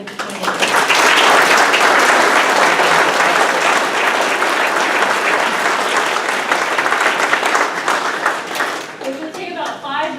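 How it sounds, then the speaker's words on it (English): An audience at a mayoral candidate forum gives sustained, loud applause for the candidates. Thick clapping swells and holds for most of the stretch, then tapers as voices start up near the end. "Please join me in a round of applause for all of the candidates."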